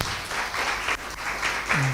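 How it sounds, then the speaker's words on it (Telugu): Applause fills the whole stretch, a dense crowd clapping steadily, with a brief voice cutting in near the end. "గట్టిగా చప్పట్లు కూడా."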